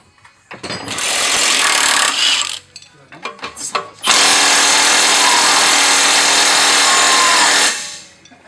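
A Milwaukee power tool at work during a traction bar install, running loud and close in a short burst, then a few brief stutters, then a long steady run before winding down.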